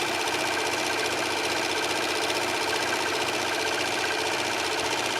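A serger sewing machine stitches and trims fabric in a steady, dense mechanical whir that runs unbroken and close at hand throughout.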